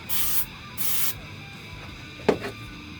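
A can of penetrating oil sprays twice in short hissing bursts, each about a third of a second, followed by a single sharp knock, close up with no talk.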